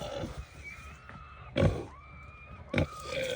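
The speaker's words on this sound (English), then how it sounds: "That's the sound of the dogs." Hunting dogs catching a wild hog in the woods: squealing, grunting pig sounds and scuffling come in short loud bursts, near and harsh, amid outdoor background noise.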